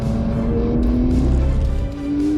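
Porsche 992 GT3 driven hard on a race track, its engine holding a loud, steady high-revving note with rising pitch, then a brief lift around two seconds before pulling again; no voices.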